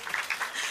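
Brief burst of audience applause at a stand-up comedy show, a dense patter of clapping that is moderately loud and continuous for under a second.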